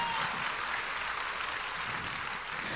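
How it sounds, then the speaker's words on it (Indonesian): Church congregation applauding for Jesus during a worship service, a steady dense wash of clapping that holds even and fairly loud for the whole stretch, with no voices over it. "kalau tepuk tangannya boleh yang paling meriah buat Yesus Tuhan kita"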